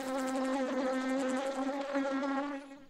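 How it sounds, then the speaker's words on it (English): A bee buzzes steadily while collecting nectar from flowers, a close, continuous droning hum with a rich harmonic tone that holds for about three seconds before fading slightly at the end. "It's a bee."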